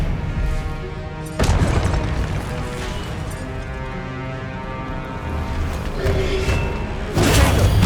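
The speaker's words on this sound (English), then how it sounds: "Expelliarmus" Expelliarmus spells are cast in Hogwarts Legacy. Loud, whooshing magical blasts strike sharply around one and a half seconds and again near the end over a busy, rumbling game soundscape.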